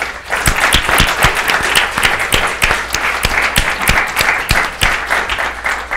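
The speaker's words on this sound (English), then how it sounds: "please join me in, I guess you just did a round of applause for our three democracy award winners" An audience applauding the 2019 Democracy Award winners at a public event: continuous, full-room clapping with crisp individual claps standing out, holding steady from start to end.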